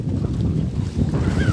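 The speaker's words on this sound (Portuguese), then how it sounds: "hoje o mar tá um pouquinho mais agitado, tem muito vento hoje" Strong wind buffets a fishing boat out on a choppy sea while fishing for tarpon, a steady low roaring rush with water sloshing beneath, loud and continuous with no talking.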